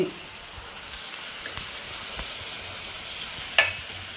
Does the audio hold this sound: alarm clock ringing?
no